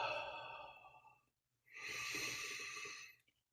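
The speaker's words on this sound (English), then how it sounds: "Let's take a deep breath." One person takes a deep breath during a guided prayer and meditation practice, a long audible inhale followed by a pause and then a slow, breathy exhale, close and unaccompanied.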